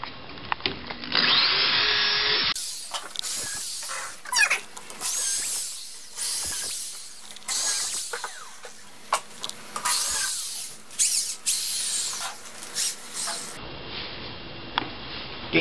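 A power drill drives screws into wooden concrete formwork in repeated short whirring bursts, close and loud, with wood-scraping and handling noises between runs.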